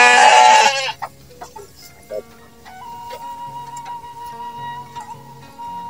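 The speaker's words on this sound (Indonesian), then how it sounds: "Masihan maraban domba." A sheep being fed in a village in southern Sukabumi gives one loud, close bleat at the start, followed by quieter, sparse farmyard sounds.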